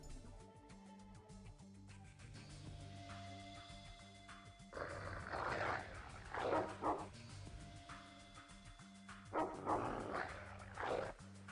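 A dog barks and growls in the video game X-Com Files, heavy snarling bursts repeating over a steady droning game soundtrack, with no talk.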